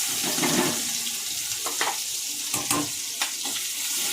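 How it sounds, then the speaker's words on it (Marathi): Onion frying in oil with cumin and a bay leaf, a close, steady crackling sizzle broken by a few sharp clatters of stirring. "कांदा चांगला तेलामध्ये लाल होऊ द्यायचा।"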